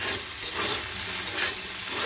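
Plantain and potato fry in a wok, giving a close, loud, steady sizzle and hiss with faint stirring scrapes and no talking.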